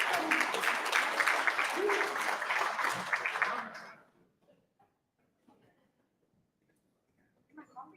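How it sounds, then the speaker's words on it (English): Audience applause at an indoor conference, a dense burst of clapping for about four seconds that cuts off abruptly, followed by quiet room noise with faint shuffling and a brief sound near the end. "Give her a round of applause."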